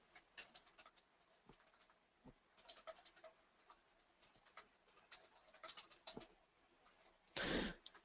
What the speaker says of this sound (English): Typing is not my strength today